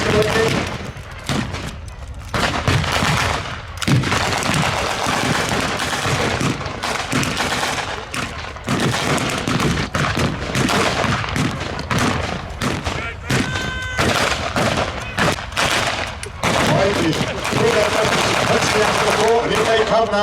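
Dense re-enactment gunfire crackles nonstop at a tank museum's Tiger 131 capture event, with rifle and machine-gun volleys, grenade thumps and booms overlapping for the whole stretch, while people talk intermittently underneath.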